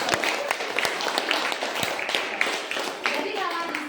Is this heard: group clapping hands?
yes